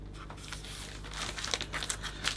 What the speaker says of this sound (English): we can cut the cellophane down the middle so we can keep that 1/2 for another hand tied